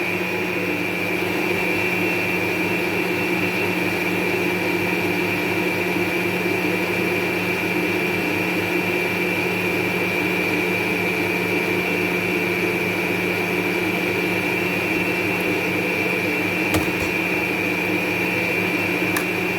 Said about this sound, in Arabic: غادي نطلع من بعد فوالا السرعه ديال الباطور